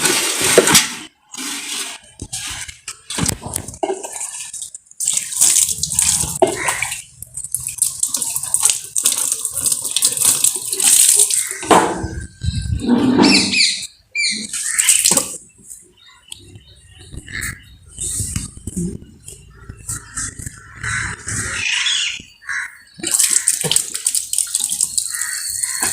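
Water gushes from a pipe into a tank, a loud, close, uneven splashing rush that surges and breaks off in bursts throughout.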